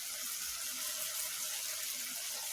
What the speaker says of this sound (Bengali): এখন দিয়ে দিব একটু ঝোল।